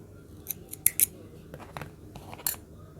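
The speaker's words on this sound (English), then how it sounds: "go ahead and pull your yarn, and then we're just going to go ahead and cut it" Scissors snipping crochet yarn for a net bag, a few sharp metallic blade clicks and snips close by, brief and crisp against a quiet room, with no talk.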